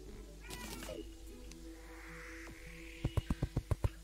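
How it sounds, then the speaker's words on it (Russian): A cat meows in the background of a Terraria gameplay session. After a few faint earlier cries, it lets out a quick series of about six short, distinct meows near the end against quiet game sound. "Кот на заднем плане тоже согласен со мной."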